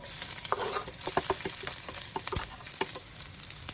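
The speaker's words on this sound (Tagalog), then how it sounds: "So lagay na po natin ang ating bawang at sibuyas." Garlic and onion dropped into a hot pan, a close, continuous sizzle and spatter with scattered crackles and a few scraping stirs.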